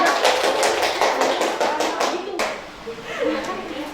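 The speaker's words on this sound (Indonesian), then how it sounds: "Semuanya juga tepuk tangan dulu sebelumnya." A classroom of students claps their hands together in dense, overlapping applause that starts strong and then thins out, with children's voices chattering underneath.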